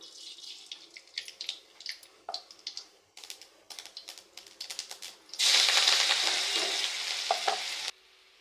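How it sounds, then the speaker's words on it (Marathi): Cumin and mustard seeds hit hot oil in a kadhai with a sudden loud hiss that sputters for a couple of seconds, after a run of light clicks and taps from kitchen handling. "आता कढईत तेल टाकले, आता जिरं मोहरी टाकते"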